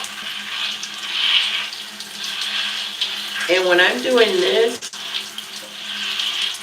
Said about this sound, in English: I usually start out with just this fanned water pressure, and then I change water pressures to get a more direct rinse.